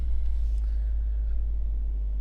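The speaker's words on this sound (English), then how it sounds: "so we're gonna continue on now in crawl mode" A 2024 Lexus GX 550 Overtrail crawls off-road in low range with crawl mode engaged, giving a steady, loud low engine rumble with faint scraping and ticking over it, and no voices.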